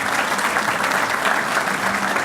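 Steady, dense applause from a conference audience at a county legislative gathering fills the room, continuous and fairly loud throughout with no pauses or voices above it.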